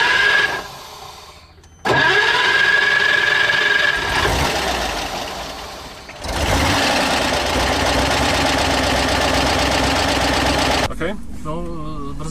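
A car engine in Prague cranks and catches, settles into a rough idle, then surges again as it keeps running, all close and loud, with voices speaking over it at times.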